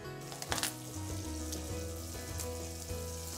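Butter sizzling as it melts in a pot for a mushroom sauce, a steady close frying hiss with a few small crackles and light utensil knocks, no talking.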